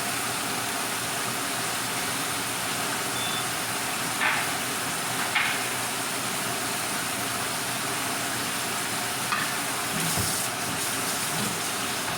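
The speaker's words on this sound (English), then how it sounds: "You can't fry that fish too long." Catfish frying in hot oil, a steady loud hiss of sizzling that continues throughout, with faint occasional clicks and pops.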